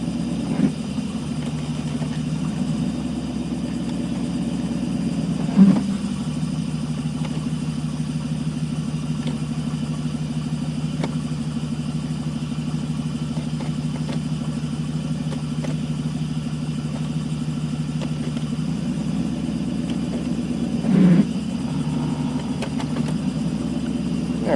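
A car engine runs steadily through its transmission gears after a fluid change, a continuous mid-low rumble with slight shifts and two brief clunks, heard close with no talking.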